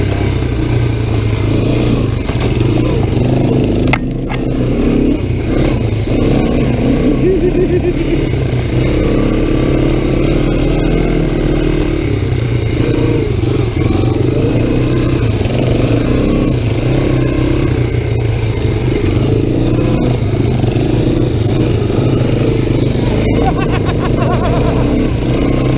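An ATV engine rumbles and revs loudly while riding on ice down a hill in winter, a continuous mid-pitched motor drone with throttle surges and occasional clattering knocks.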